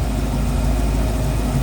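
A Ford 302 V8 idles smoothly in a 1931 Ford Model A Victoria street rod fitted with a Summit four-barrel intake and headers, giving a steady, close, low rumble with no variation for the whole stretch.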